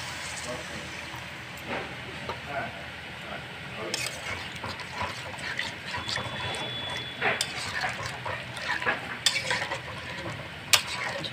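Water poured into fried spice masala for a Tengra fish curry makes a steady hiss and sizzle, with stirring scrapes and scattered clicks from the pan close by.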